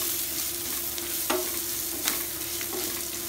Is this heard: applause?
no